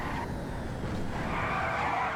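A car brakes hard on a racetrack, tires skidding and squealing in a sustained, loud, rough scrub that shifts pitch over about two seconds with engine noise beneath.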